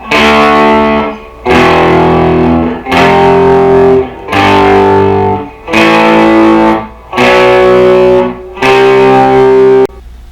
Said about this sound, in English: And you play those 2 tones together and you have a power chord. We're using a classic crunch sound on the amplifier.